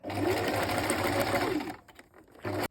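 A sewing machine stitches a shirt seam with a steady, fast mechanical whirr and rhythmic needle chatter close by. It pauses briefly near the end, then runs again in a short burst.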